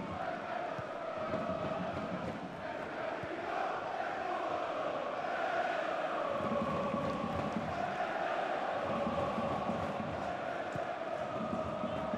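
Middlesbrough football crowd during a second-half match against Sunderland, a sustained distant roar and murmur of chanting fans rising and falling steadily beneath the broadcast.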